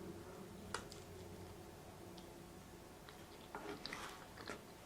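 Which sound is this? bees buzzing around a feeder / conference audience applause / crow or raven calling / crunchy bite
crunchy bite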